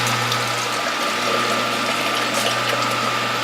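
A Norwalk juicer presses carrot pulp for juice with a steady, loud mechanical hum and a constant hissing, watery wash that carries on unchanged throughout.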